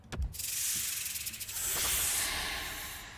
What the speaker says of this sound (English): A rattlesnake.